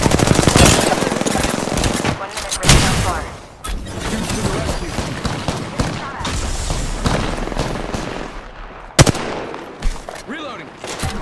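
Dense, loud machine-gun fire and scattered booms in a shooter video game rattle almost continuously, with sharp single cracks standing out and a voice talking intermittently over the shooting.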